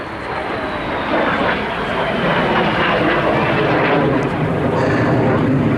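A de Havilland Vampire Mark III jet of No. 54 Squadron, Royal Air Force, flies overhead in 1948, its engine a loud, steady, broadband roar that holds for several seconds.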